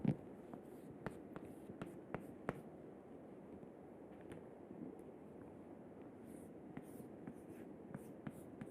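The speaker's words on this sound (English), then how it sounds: "let me erase this part to write what will be called as the Chvorinov's equation" Chalk or marker writing on a board in a lecture room after erasing, faint scratchy strokes and taps in irregular bursts over low room hiss.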